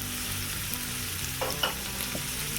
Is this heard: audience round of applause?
no